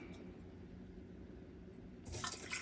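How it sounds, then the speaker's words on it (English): A GE dishwasher, stuck in a constant drain with an FTD error, begins filling: after a low, steady hum, water rushes in with a loud broadband hiss for the last half second or so. "That's gonna let water in."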